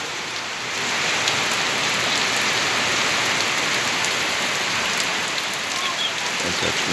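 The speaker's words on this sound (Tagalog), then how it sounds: "lakas ng ulan." Heavy rain falls in a dense, constant roar, growing slightly louder after the first second and holding steady without any voices.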